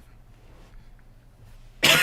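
A single sharp cough bursts out at the very end, near and loud, after a stretch of quiet low background hum.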